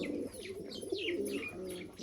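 Soft pigeon coos from high-flyer pigeons repeat in a steady low rhythm, with brief chirpy calls above them, fairly quiet and unaccompanied by speech.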